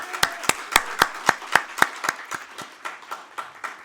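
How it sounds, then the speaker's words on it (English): Applause at a formal opening speech event: a rhythmic run of sharp hand claps blending with a lighter spread of clapping from the audience, steady for several seconds and gradually softening. "Can we give Mr. Morris Alfonso, a big round of applause, please?"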